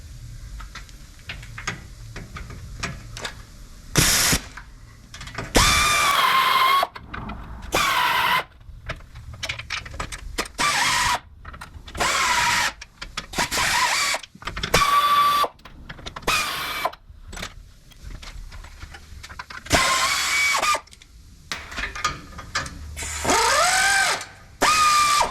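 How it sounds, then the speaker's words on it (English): A power tool works loose the 14mm sway bar bolts on a Toyota FJ during a front strut swap, in repeated short whirring bursts separated by quiet pauses, close and fairly loud, with no talk. "Now we're gonna go ahead and loosen both 14s for the sway bar on this side and on the driver's side."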